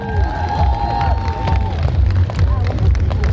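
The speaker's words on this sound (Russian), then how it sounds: "Ваши аплодисменты." Concert audience at the Tun Pairam 2016 festival applauding and cheering, a dense, loud, continuous crowd roar with whistles and shouts throughout.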